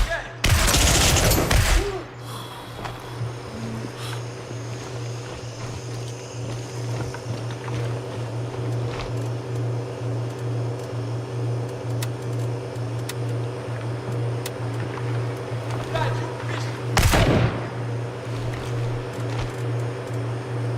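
Gunfire in the jungle shooter Gray Zone Warfare: a loud close burst at the start and another sharp one later, separated by a long stretch of steady humming ambience with faint distant reports.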